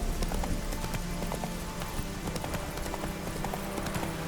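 Horse hooves clip-clop in a steady galloping rhythm in The Witcher 3 video game, continuous and fairly close throughout, with faint background game ambience.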